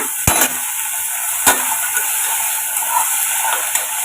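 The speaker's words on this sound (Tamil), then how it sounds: "இதுக்கு தேவையான உப்பு சேர்த்து வதக்கி விட்டுக்கோங்க" Ginger garlic paste and green peas sautéing with salt in a pan for pulao, a steady close hiss and sizzle with a couple of sharp stirring scrapes, no talking.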